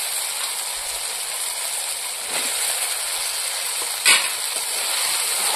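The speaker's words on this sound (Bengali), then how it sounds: "এবার আমি ভেজে রাখা কলাগুলো দিয়ে দেবো।" Fried green bananas are tipped into a hot spice paste that has been cooked until the oil separates, giving a steady close sizzle with a sharp clatter and rising hiss near the end.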